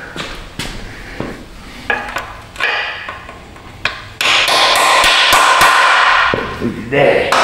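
Hammer blows strike a rotted Subaru subframe in a garage, sharp metallic hits spaced irregularly, then a louder stretch of clanging and scraping, with someone talking between strikes.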